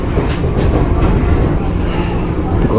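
A KRL Commuter Line train rolls along the elevated track toward Jakarta Kota, taking a sharp curve with a steady, loud rumble and faint wheel clatter that fills the cabin throughout.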